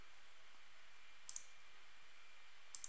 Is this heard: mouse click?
yes